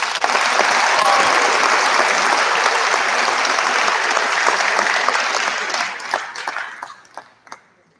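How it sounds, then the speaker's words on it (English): Full audience applause for the parents at a high school senior awards night, a loud dense wash of clapping that thins out over the last few seconds into a handful of scattered final claps. "Can we get a round of applause for the parents?"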